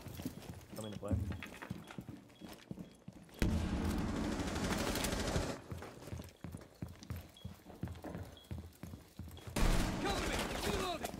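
Rapid bursts of SMG-11 submachine gunfire in a Rainbow Six Siege match, loud and close, with a dense sustained burst in the middle and another near the end, interleaved with footsteps and players calling out over the action.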